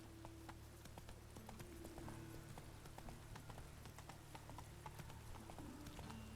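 Geralt's horse Roach trots along in The Witcher 3: Wild Hunt, a steady, even clip-clop of hooves repeating through the whole stretch, faint and low in level over a soft ambient bed.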